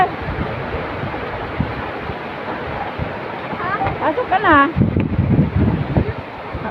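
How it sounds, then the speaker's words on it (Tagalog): Strong wind roars steadily against the microphone while someone speaks briefly nearby. "Lakas hangin"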